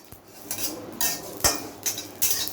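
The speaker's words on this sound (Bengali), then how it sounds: "জিরা তেজপাতাটা আমি ভেজে নিচ্ছি" Cumin seeds and bay leaves frying in a pan, with a utensil clinking and scraping against the metal in several short, fairly close bursts over a soft background sizzle.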